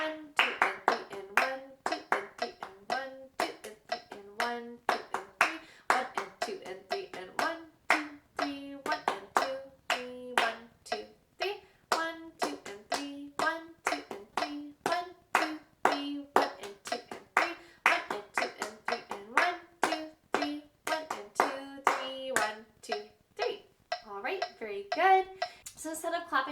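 Hands clap a steady counted rhythm exercise during a flute lesson, sharp close claps in a regular pulse with short pauses between phrases, with no talking over them.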